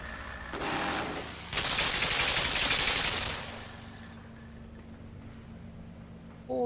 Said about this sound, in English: Good thing these guns have a warm-up.